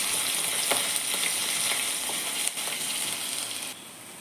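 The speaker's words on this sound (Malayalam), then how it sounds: "ഒന്ന് ഇളക്കി കൊടുക്കാം." Ginger frying with mustard seeds in hot oil while being stirred in a pan for Kerala sardine curry; constant close sizzle with light crackling and soft scraping strokes, quieting slightly near the end.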